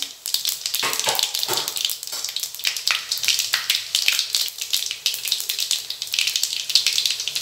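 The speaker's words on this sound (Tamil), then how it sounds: "வாசனைக்காக கொஞ்சம் வெந்தயம் சேர்த்துக்கிறேன்" Fenugreek seeds dropped into hot oil with mustard, cumin and urad dal give a continuous close sizzle, broken by small sharp pops and crackles throughout.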